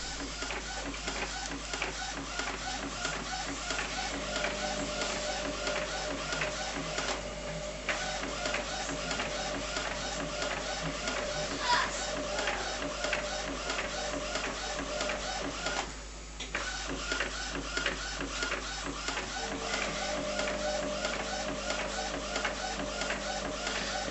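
A Canon SX600FW inkjet printer runs a print job, its mechanism whirring and clicking in a steady repeating rhythm close by, with brief pauses in the carriage motion.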